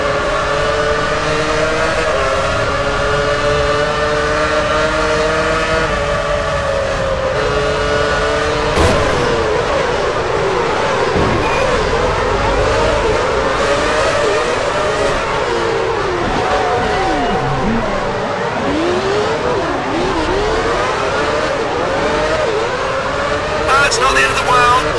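Formula 1 race cars in the F1 Championship Edition video game roar into the first corner at the race start, several engines whining and shifting pitch together in a dense, continuous wall of sound, with a commentator talking over it.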